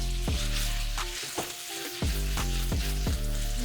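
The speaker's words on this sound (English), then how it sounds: "we're gonna let these sizzle here in the pan for a little bit" Loud, steady sizzling of chicken frying in a pan for Cajun chicken Alfredo, with several sharp clinks and taps of utensils against the pan at irregular intervals.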